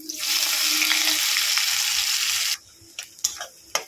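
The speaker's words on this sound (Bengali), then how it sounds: "দেখুন পেঁয়াজটা আমি লাল লাল করে এরকম ভেজে নেবো।" Onions frying in oil make a loud, dense sizzle for about two and a half seconds, then it cuts off, leaving a few sharp clicks and taps.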